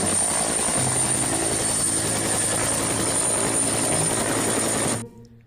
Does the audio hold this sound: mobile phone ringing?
no